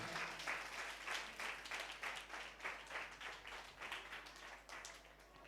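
Audience clapping at a church Christmas gathering as a woman is welcomed onto the stage, a steady ripple of applause at moderate distance, fairly faint and even throughout.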